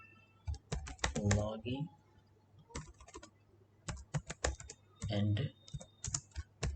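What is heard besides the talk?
typing code on a computer keyboard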